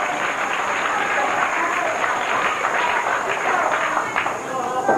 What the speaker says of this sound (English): A very supportive crowd, Paul, for all 4 bowlers.